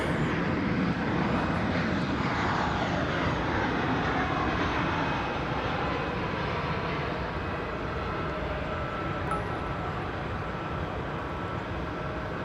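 A fixed-wing airliner landing on the east side of DFW Airport, a broad continuous engine roar heard from a distance, holding steady and slowly easing, with no voices.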